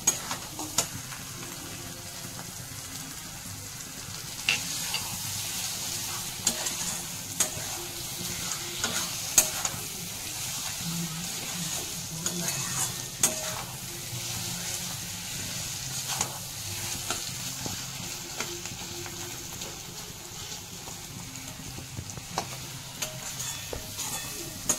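Spice masala sizzles and fries in a pan while being stirred, steady crackling hiss punctuated by repeated scraping clicks of the spoon, close and moderately loud with no talking.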